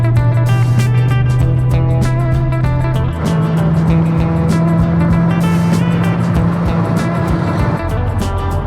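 A C7 Corvette Z06 cruises a scenic road through Okanagan Valley wine country, its engine holding a steady, loud, continuous drone with a brief shift in pitch partway through.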